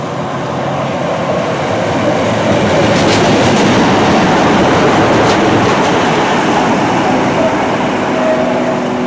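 A passenger train departing Habrough station rumbles loudly and continuously, with rolling wheel noise and faint clickety-clack rising as it gathers pace, no voices heard.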